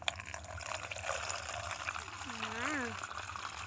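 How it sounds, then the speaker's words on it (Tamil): Water poured from a container during an at-home instant snow experiment, a steady trickling stream running throughout under a faint voice and a short rising whine. "தண்ணி ஊற்றவா? ஊற்றுங்க."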